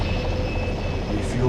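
Airwolf helicopter in Operation Flashpoint hovering through a mid-air refuel, its steady rotor and engine drone filling the scene at an even, loud level with a faint high whine, while a voice talks over it.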